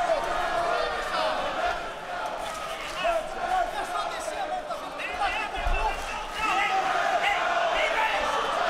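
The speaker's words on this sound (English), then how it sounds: "Crowd here in DC chanting" Arena crowd at a 2023 PFL light heavyweight title fight in Washington, DC, chanting steadily in rhythm throughout, a loud, dense mass of voices filling the hall.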